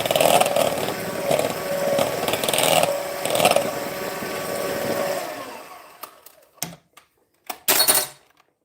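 A KitchenAid stand mixer churns a salmon cake mixture with smoked salmon, capers and dill, giving a steady motor whir for about five seconds before stopping, followed by a few short clicks and bumps.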